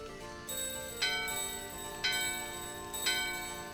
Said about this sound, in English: The bell in your hand and the doorbell are ringing.